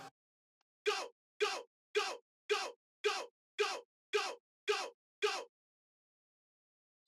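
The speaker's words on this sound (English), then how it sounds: "which is an offbeat vocal shot." Offbeat vocal shot sample from a remix pack fires nine times at a steady, even tempo, each hit a short breathy vocal burst separated by silence, then stops.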